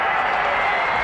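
A stadium crowd roars and applauds at full time of a rugby league match between Eastern Suburbs and St George, as a dense, steady wash of noise with commentary faintly mixed in.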